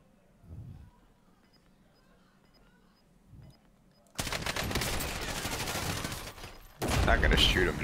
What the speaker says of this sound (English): Shoot him, Josh.